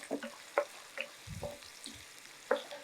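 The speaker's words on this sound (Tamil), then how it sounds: "இதை லோ ஃப்ளேமில் அப்படியே என்ன செய்யுங்கன்னா ஒரு 2 நிமிஷம் நல்லா வதக்கி எடுத்துக்கலாம்." Onions sauté on a low flame for arai keerai chutney, with faint, sparse sizzling and a few soft stirring clicks against a quiet background.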